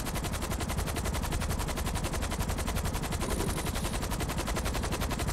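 Sustained automatic gunfire from enemy players in GTA V Online, a rapid unbroken rattle of shots at a steady rhythm, loud and close, with no talk over it.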